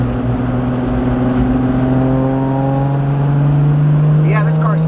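A 1000+ horsepower moonstone pearl Toyota Supra drives at speed, its engine a steady loud drone heard from inside the car over tyre and road rumble throughout.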